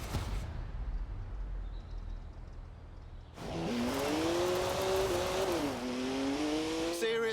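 A BMW 1M is driven in Forza Horizon 4, a low rumble giving way to a loud engine revving higher with rising and shifting pitch, close and continuous with a brief tire squeal.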